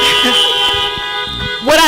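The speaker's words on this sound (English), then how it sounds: "Honk if you hear me." Car horns honking at an outdoor rally, a short toot and a brief honk with a person speaking over them.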